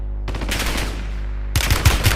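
Video game gunfire in two loud automatic bursts, one long rapid stream followed by a brief pause and then a second, heavier burst of shots.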